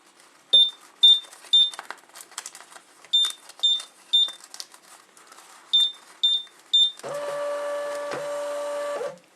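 Milestone MHT-L1081 thermal shipping label printer beeping in short triple bursts, then feeding labels with a steady mechanical whir for the last couple of seconds, close and alone.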